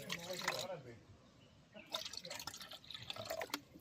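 Water trickling and splashing as it pours into a flapjack mixture, in short uneven bursts at modest loudness with a voice speaking intermittently over it.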